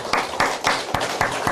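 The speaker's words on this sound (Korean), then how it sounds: "우리 함께 하셔서 우리를 축복하신 주님께 감사의 박수를 드리겠습니다" Church congregation clapping together in thanks, a steady run of crisp hand claps with no talking over it.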